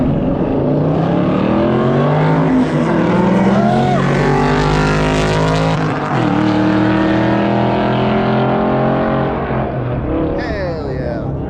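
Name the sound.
Ford Mustang car racing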